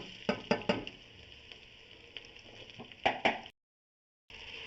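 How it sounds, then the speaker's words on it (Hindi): Chopped ginger and garlic tipped into onions frying in a pan: a steady soft sizzle broken by several sharp clinks and scrapes of a spoon against the metal, close by, with a short silent gap near the end. "अब बाकी प्याज के अंदर हम अपना चॉप अदरक लहसुन शामिल कर देंगे।"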